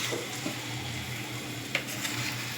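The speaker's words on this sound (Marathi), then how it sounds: "आणि आता हे बॅटर त्यावर टाकते." Batter poured into a gas-stove pan with about a spoonful of oil, a steady low sizzle with a faint hum beneath and a couple of light utensil taps, fairly quiet throughout.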